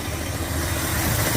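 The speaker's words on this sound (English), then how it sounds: "Look at that, she's sitting there idling." A 1976 Ford F-150 Ranger engine idles steadily up close, a continuous low rumble that holds even for the whole short stretch; the truck is dripping fuel and has a suspect fuel pump.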